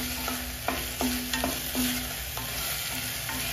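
Garlic and green chillies sizzling in a pan for pasta, a steady soft frying hiss with occasional scrapes of stirring, close and fairly quiet.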